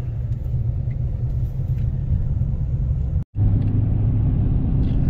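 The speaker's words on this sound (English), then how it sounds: "They use a tractor to pull these cars around." A tractor working as a railcar switcher rumbles steadily with a deep low engine drone, close and loud, broken once by a brief cut before continuing unchanged.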